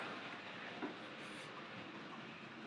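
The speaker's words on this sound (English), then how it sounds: "That's probably going a bit fast for a coal train" A model railway coal train runs along a layout, a faint steady rolling rumble with light rail clatter throughout.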